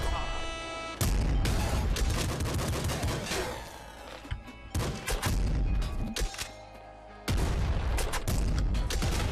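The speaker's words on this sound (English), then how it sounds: "that's a pretty big explosion" Gunfire and explosions from the Nuclear Throne video game: rapid bursts of shots and booming blasts that cut in and out, loud, with a brief quieter gap in the middle.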